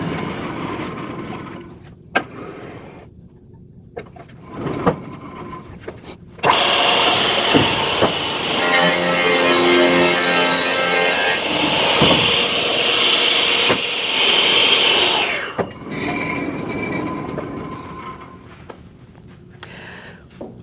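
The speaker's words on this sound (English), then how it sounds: "my next cut I need to make the same distance, which means I need to bring my blade down just a bit" A panel saw cuts a sheet of wood, a loud sustained whine and roar lasting several seconds, set between quieter stretches of workshop clatter.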